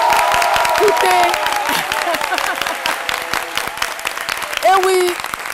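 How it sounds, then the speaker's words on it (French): A studio audience applauds the Amazones, the Union des femmes d'Andokoa, on a midday TV show: dense, steady clapping throughout, with voices and tonal sounds rising over it near the end. "je voudrais qu'on puisse applaudir encore très très fort pour ces Amazones, l'Union des femmes d'Andokoa"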